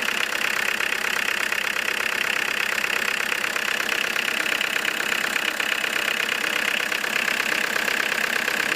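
A diesel engine idles in a closed garage, running slightly rough while its injection pump timing is adjusted; a steady, close, loud clattering hum with no talking.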